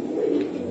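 At a pigeon market, a pigeon gives a brief, low, soft coo. It sounds close, over a steady background murmur.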